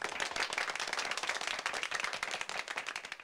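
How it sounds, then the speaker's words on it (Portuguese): Applause sound effect triggered from a Comica AdCaster C1-K1 podcast audio interface pad: dense, steady crowd clapping at even loudness for a few seconds, alone without voices. "Palmas."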